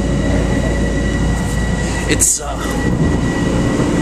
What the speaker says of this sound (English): Day two on the train to the city, leaving the station right now.